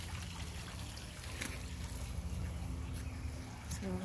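A backyard water feature trickles in a steady, even wash of water sound near a pool deck and pergola, with faint low outdoor rumble beneath and no talking.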